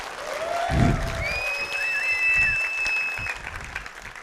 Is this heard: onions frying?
no